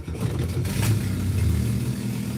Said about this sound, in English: And that starts the car.